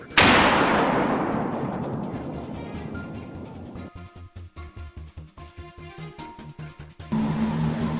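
A single loud rifle gunshot fired while hunting wild boar, a sharp blast that rolls into a long decaying echo, followed by a steady rhythmic mechanical pulsing and a louder tonal hum near the end.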